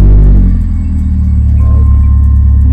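A Toyota Avanza with an automatic gearbox and only a muffler fitted idles loudly and close by, a steady low exhaust rumble with mild throttle swells and no talking.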